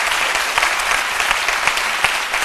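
Studio audience applause on the RTI 1 midday television show C'Midi, a dense, even wash of many hands clapping loudly and continuously with a few sharper individual claps standing out.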